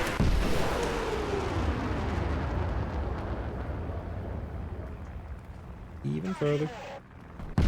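A tank cannon shot and hit in War Thunder lands as a loud booming blast that decays over several seconds, followed by a faint mechanical clatter; someone talks briefly over it.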